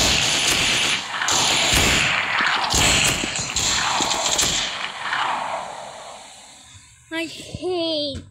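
Rapid bursts of machine gun fire from the shooter game Special Forces Group 2 crackle loudly in repeated volleys for several seconds, then fade, followed by a brief spoken voice.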